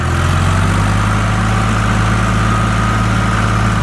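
A Case IH loader tractor's engine runs steadily near its top speed of about 1900 to 2000 RPM, giving a loud, continuous low drone with an even mechanical hum and no break throughout.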